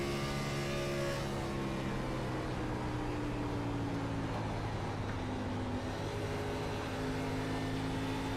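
Race car engines at Homestead in a racing video game, a sustained droning roar with steady engine tones and gradually shifting pitch, continuous and fairly loud with no talk.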